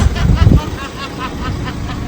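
A car engine cranks and turns over close by: a low, heavy rumble at first, then a rhythmic churning idle for the rest of the clip.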